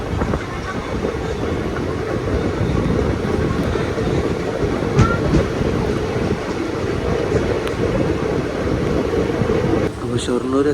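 Nilambur passenger train rolling steadily along the rails, a constant loud rumble with rhythmic wheel clatter and wind noise throughout, no talking.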